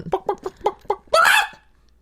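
A chicken clucks in a short burst of about six quick, rhythmic clucks, followed by a louder, longer squawk, all close and clear with no talking.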